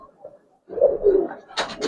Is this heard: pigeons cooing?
yes